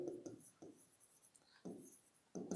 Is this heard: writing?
yes